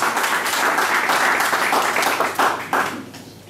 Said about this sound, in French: on peut les applaudir d'une bonne main